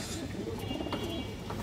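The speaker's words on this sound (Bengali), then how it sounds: "খুবই সুন্দর একটা বাঘা মাদি কবুতর, লাল গিয়ারের" A female Bagha pigeon gives soft, low coos close by but quietly, in a short burst lasting under two seconds.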